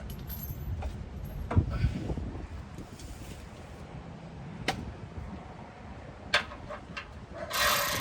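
Socket wrench ratcheting a skid plate bolt loose on a Ford Bronco during a BROADDICT skid plate install: sparse metallic clicks and rattles, a few sharper knocks, close by with no talking.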